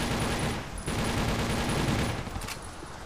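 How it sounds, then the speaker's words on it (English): Dense, continuous gunfire from the video game TimeShift, rapid overlapping shots forming a steady loud fusillade for the whole stretch, with a short dip near the start before resuming. "People stop shooting."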